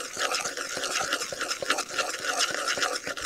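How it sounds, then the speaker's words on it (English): A spoon stirs soft squishy-ball dough in a bowl, making a continuous wet, squelching and scraping sound with quick repeated strokes, close and fairly loud. "You take your spoon and start mixing again."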